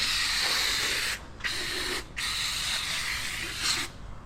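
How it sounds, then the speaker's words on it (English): Degreaser sprayed onto nuts and bolts of a 1985 Subaru Brumby, three long close hissing bursts separated by brief pauses, with no talk. "Degrease all the other nuts and bolts."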